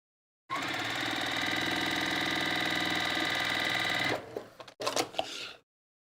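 A home sewing machine stitches rows of a quilt top in one steady, continuous whir for about three and a half seconds, then stops, followed by a few short clatters of handling.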